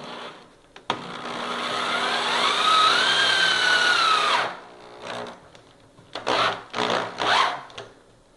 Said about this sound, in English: So what you would do is drill your hole. Now you're going through two pieces of wood, and your screws are going to be the long screws.